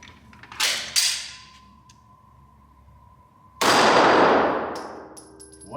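A Beretta APX 9mm pistol with a 4.25-inch barrel fires a single loud round, its sharp crack followed by a long decaying ring, after two smaller metallic clanks of handling earlier on.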